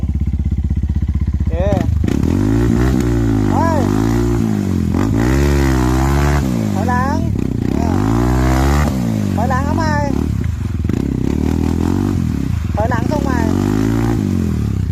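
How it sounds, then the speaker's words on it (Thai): Motorcycle engine revving hard with the throttle opened repeatedly, its pitch rising and falling in surges, loud and close, while people talk over it. "ถอยหลังเปิดคันเร่งทีเดียวเลยไม่หงายหรอกเปิดหนัก"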